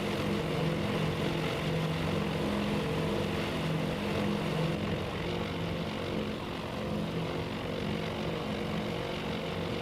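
Propeller aircraft drone in the naval strategy game Task Force Admiral, a continuous steady engine hum with a slight shift midway, no voices.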